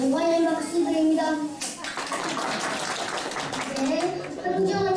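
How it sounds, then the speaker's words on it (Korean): A church congregation breaks into a burst of applause lasting a couple of seconds, with voices heard just before and after it. "영광의 박수드립니다."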